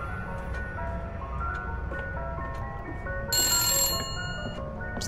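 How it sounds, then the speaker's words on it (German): A telephone ringing in the horror video game The Nightfall, a steady electronic ring tone that repeats over a low ambient drone, with a brighter, louder burst partway through. "Das Telefon klingelt."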